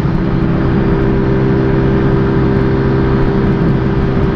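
A Zontes 125 Hypertrail motorcycle engine runs at high revs in one loud, steady drone with a constant tone and no real change in pitch. No one speaks.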